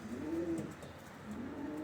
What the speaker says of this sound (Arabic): فرد حمام عالمي يعني